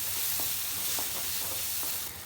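Turmeric, red chili powder and coriander powder sizzle loudly in hot oil in a pan while being stirred, a dense continuous frying hiss with soft periodic scrapes of the spoon.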